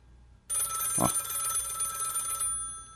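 A telephone bell rings once, a sustained bright metallic trill lasting about two seconds, close and alone.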